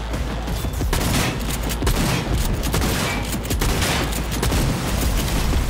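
Gunfire in the video game Cyberpunk 2077, loud rapid overlapping shotgun blasts and crashes in a dense continuous barrage.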